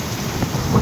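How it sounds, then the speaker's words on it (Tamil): A thunder rumble during heavy rain at Kurisumala, Vagamon in Kerala, low rolling boom swelling toward the end over a constant rain hiss, close and fairly loud, no speech. "ஆனால் வந்த கேப்பில் சரியான இடி."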